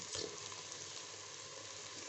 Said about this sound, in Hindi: अब इसके अंदर जाएगा पानी हमारा